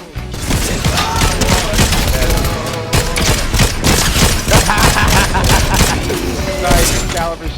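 Rapid video game gunfire rattles in dense, continuous bursts of sharp shots, loud and close, with excited players talking over it.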